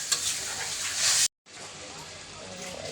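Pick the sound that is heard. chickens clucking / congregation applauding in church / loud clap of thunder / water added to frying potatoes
water added to frying potatoes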